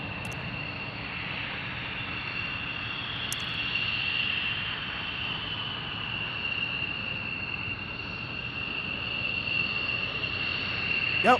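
F-16 fighter jets at Tucson airport, a steady broad engine roar with a high whine, held at a distance and swelling slightly toward the end.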